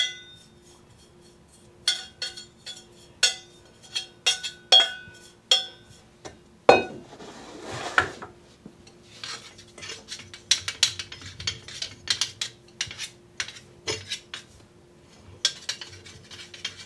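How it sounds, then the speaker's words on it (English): Cleaning a falling number test machine for flour samples brings a series of separate metallic and glassy clinks and clatters, irregular knocks spaced a second or two apart, then a denser run of rattling handling sounds, close and moderately loud. "the machine is cleaned after every sample to prevent contamination"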